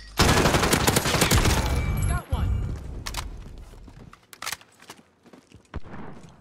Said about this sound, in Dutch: Oh, ik hoorde schoten.